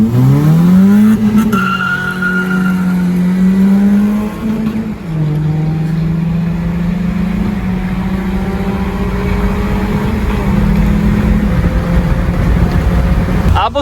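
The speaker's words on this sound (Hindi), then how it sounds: "अभी हमारी रेस होने लगी है" A Suzuki FX and a Toyota Grande 1.8 racing, engines revving loudly up close with tires squealing and skidding in long, shifting whines that rise and fall across the run.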